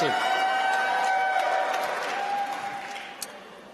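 Graduation crowd at a School of Public Health ceremony applauding and cheering, a dense sustained wash of clapping that slowly fades, with a sharp whistle-like tone running through it.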